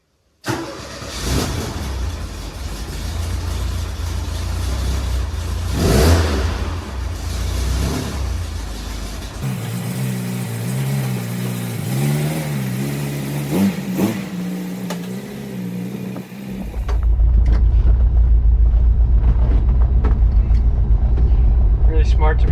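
A 1967 VW Bus fitted with a supercharger drives and accelerates, its engine droning steadily with rising and shifting revs, then roaring louder and heavier toward the end, with people talking over it.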